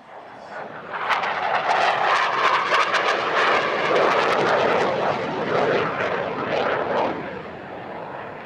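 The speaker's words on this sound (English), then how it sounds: "This year's Rafale solo display is one of the shortest fastjet solo displays on the airshow circuit" A Rafale fast jet flies a solo display at a military airshow, and its roar swells quickly to a loud, rough, sustained thunder as it passes, then slowly fades in the open air.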